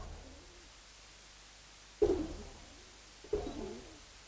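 Pallalline pigeons kept in a loft in Uttarkhan, Dhaka, cooing: two low, throaty coo phrases about a second apart, close and fairly clear after a quiet start, with no talking.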